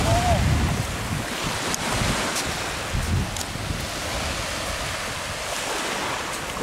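Sea waves wash onto the sand at White Island beach in Camiguin, a steady broadband surf wash mixed with gusty wind buffeting the microphone, continuous and fairly loud, without speech.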